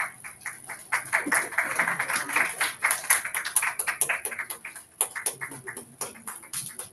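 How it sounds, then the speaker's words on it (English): An audience at an academic conference gives a round of applause, the clapping moderately loud and a little uneven, with scattered sharp individual claps rising and falling over several seconds. "A big round of applause, please."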